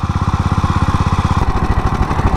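A 1933 Moto Guzzi vintage motorcycle on a ride up Palomar Mountain, its single engine thumping in a fast, even pulse right up close and loud, the beat shifting briefly as the rider works the throttle.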